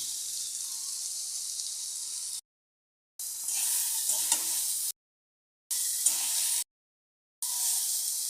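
Broccoli, peas and potatoes sizzle in a pan as spices are stirred in, a steady frying hiss with scraping bursts broken by short silent gaps, close and fairly loud, with no voices.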